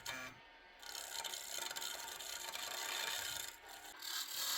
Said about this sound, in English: Now I'm using a peeling cut to remove a lot of wood very quickly